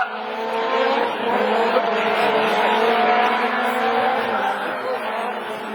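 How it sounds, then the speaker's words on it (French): Honda S2000 rallycross race car at a rallycross event, its engine roaring loud and sustained as it races past, with tire noise and a commentator talking over it. "Bach qui voulait passer à l'intérieur Girardot avec la Honda S2000"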